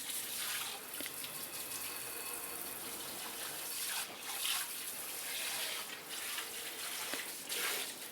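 Tap water running into a kitchen sink while a few dishes are rinsed, a continuous close splashing stream with small clinks and surges, no voice present.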